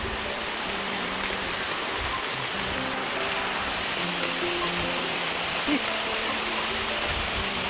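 Heavy rain pours steadily outdoors in a countryside area, a dense, continuous hiss of falling water with faint voices underneath.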